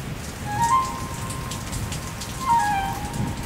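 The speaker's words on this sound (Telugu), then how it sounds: "ఇంత వానలో ఎక్కడి నుంచి వస్తున్నావు సుభాష్?" Heavy rain pours down in a steady, dense hiss of drops striking surfaces, continuous and close throughout, with no voices.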